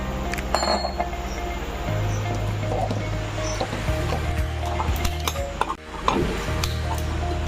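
Potatoes added to mutton curry in an opened pressure cooker and stirred, with close clinks and scrapes of a utensil against the pot over a low simmering sizzle, no talking.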